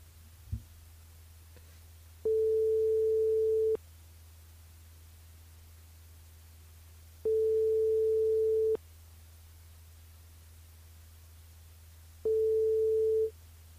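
A telephone line ringing while calling a radio switchboard: three evenly spaced ring tones over a constant low line hum, each about a second and a half long.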